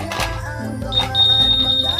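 A Honda Click V2 150 motorcycle alarm chirps with a high, steady electronic tone over a low engine or workshop hum, close by, while a voice briefly speaks.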